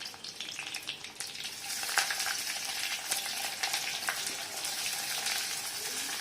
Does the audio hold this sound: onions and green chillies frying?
yes